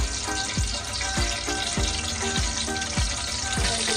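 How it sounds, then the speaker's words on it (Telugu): Cinnamon, cloves and cardamom fry in hot oil for a Nellore chicken biryani, giving a steady crackling sizzle broken by a series of sharp popping bursts spread evenly across the stretch. "ఆయిల్ హీట్ అయిన తర్వాత చెక్క, లవంగా వేసుకోవాలా"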